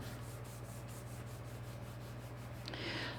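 A paper card base printed with gold metallic ink is rubbed from the back in steady, rhythmic strokes, a soft repeated scraping close to the ear, ending in a brighter, rougher swipe.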